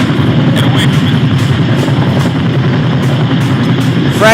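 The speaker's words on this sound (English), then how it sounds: "Chopper's smoking. Chopper's landing." A smoking helicopter lands in a video game, its loud, steady rotor and engine roar filling the whole stretch with a dense, unbroken rush.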